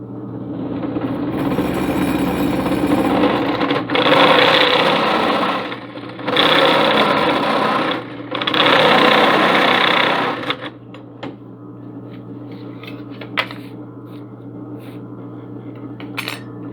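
A step bit drilling through a steel ammo can, loud whining bursts of a few seconds each separated by brief pauses, followed by quieter clinks and rattles as the workpiece is handled.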